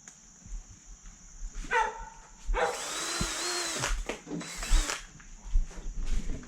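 A power drill whirs up in two sustained bursts while drilling a fish tank lid, loud and close, with a dog barking nearby and faint background noise between runs.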